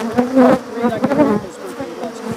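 Killer bees pour out of an opened hive in a loud, dense swarm of buzzing that rises and falls, with short bursts of a voice at moments under the hum.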